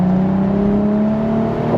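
A BMW Z4 M40i's inline-six engine holds a steady, sustained drone with a slowly rising pitch, loud and close for the whole stretch, with no talking.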